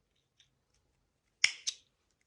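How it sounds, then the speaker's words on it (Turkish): Scissors snip through macrame cord twice in quick succession, crisp and close, with near silence around the two cuts. "Bu ölçüyü baz alarak birçok ip keseceğim şimdi."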